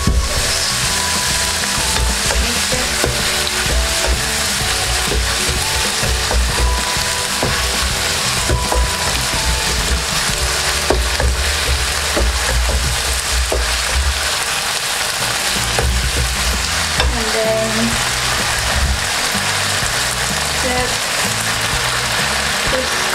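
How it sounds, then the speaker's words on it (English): Thai basil chicken stir-frying with sauce in a hot pan, a loud, continuous sizzle close by with scraping and stirring clatter throughout, no voices. "Then put the sauce about free spoon. I'll stir it up."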